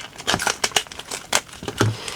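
Crinkly plastic rustling and tearing in short bursts, close to the microphone, as a packet holding a pocket alcohol burner is opened with no voices.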